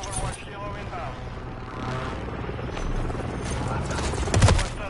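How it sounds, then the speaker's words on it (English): A stealth chopper called in during a first-person shooter video game gives off a steady rotor thrum under close, excited talk. A short burst of louder impacts comes near the end. "I'm calling in the stealth chopper."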